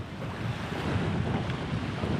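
Surf on a beach on the Isle of Skye, a continuous close wash of breaking waves mixed with gusting wind across the microphone.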